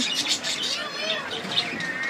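Several small pet birds chirp and tweet in quick, overlapping calls nearby inside a bird shop, with faint voices mixed in.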